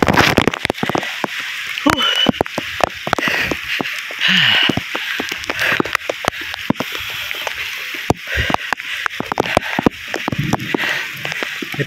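Steady rain pattering on a mountain trail, a dense hiss of drops with scattered sharper taps throughout, and a few brief voices and movement sounds close by.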